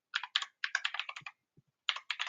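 Typing on a computer keyboard while searching in a web browser on Windows 11: quick bursts of crisp, close key clicks in short runs with brief pauses between them, and no voice.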